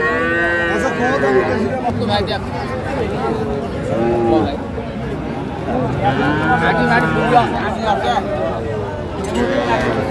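Sahiwal bull calves at a cattle market in Naogaon moo loudly and close several times, with drawn-out calls recurring throughout while people talk and chatter nearby.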